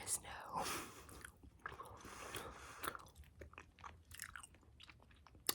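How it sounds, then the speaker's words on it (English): Open-mouthed gum chewing with Bubble Yum, with soft wet smacks and clicks repeating close to the microphone, quiet and intimate, with brief soft-spoken talk mixed in. "people have asked again if I actually chew gum like this"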